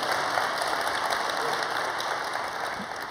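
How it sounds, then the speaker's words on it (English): An audience at a speech on permanent Security Council seats breaks into sustained applause, a dense steady clapping from a large crowd that fades slightly toward the end. "You can applaud."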